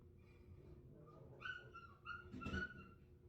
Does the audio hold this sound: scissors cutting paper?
no